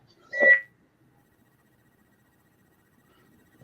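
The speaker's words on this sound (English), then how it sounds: "You can hear it beeping from the side." A phone call line gives one short, clear electronic beep early on, followed by near silence, with the faint start of another sound at the very end.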